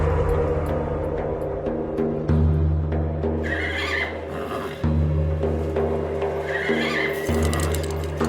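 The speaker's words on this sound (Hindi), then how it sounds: "एक काम करो चरणदास, इसका सैडल वगैरह सब उतार के इसे बाहर ले आओ खुली हवा में।" A horse neighs in a stable scene, its whinnies rising over a steady low hum and background music, with no one talking.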